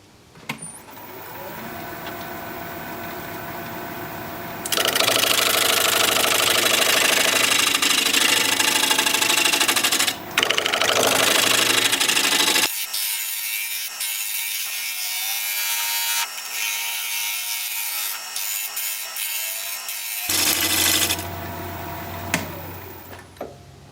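A wood lathe spinning a butternut bowl at roughly 820 rpm while a 5/8 inch bowl gouge cuts it, giving a loud, steady scraping and hissing roar that drops to a quieter hum for a stretch before rising again.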